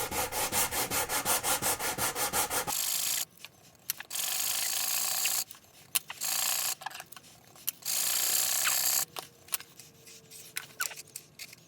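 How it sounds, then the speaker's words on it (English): A sanding stick rubs back and forth across a violin fingerboard: a rapid run of short rhythmic strokes, then longer steady scraping passes broken by pauses, close and fairly quiet, with no talking. "Brushing diagonally with the sanding stick when you're nearing the end helps to remove any small ridges or irregularities."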